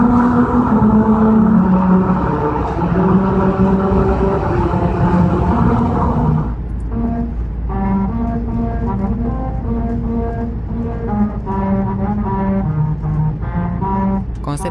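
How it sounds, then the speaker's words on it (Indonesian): Car tires rolling over a grooved musical road produce a sequence of sustained melodic tones over a steady low engine and road rumble, first fuller and denser, then thinner, more distinct notes in a clear rhythm. "Ketika ban mobil melewatinya, suara nada yang dihasilkan pun juga berbeda-beda"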